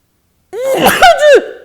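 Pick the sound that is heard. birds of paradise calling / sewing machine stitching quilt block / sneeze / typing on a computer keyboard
sneeze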